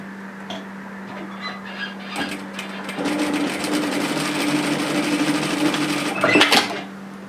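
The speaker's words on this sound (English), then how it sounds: "we want to sew a seam here and at a centimetre" A sewing machine runs a seam along a jacket's band in a steady, rapid mechanical whir lasting several seconds, close up, with a few clicks and clatters of handling before it starts.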